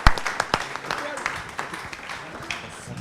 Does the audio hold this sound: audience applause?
yes